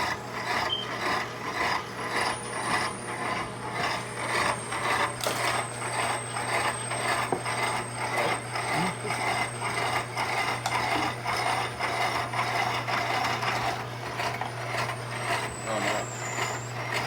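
A Weston #32 series electric meat grinder runs steadily while grinding pork for sausage, a constant motor hum with mechanical whirring and a faint high whine, heard alone and close throughout.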